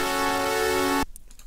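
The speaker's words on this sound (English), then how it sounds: "another basic shape set to a saw wave with 4 voices and detuned a tiny bit" A bright, buzzy sustained Serum synth tone, a four-voice saw wave detuned slightly, with a thick, slightly wavering timbre, held for about a second and then cut off abruptly.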